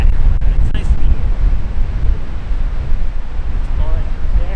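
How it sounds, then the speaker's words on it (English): Wind at a beach beside a big sand dune batters the microphone with a loud, steady low rumble and buffeting throughout, with a few brief gusty bursts. "Microphone's there, I'm shouting, it's kind of windy."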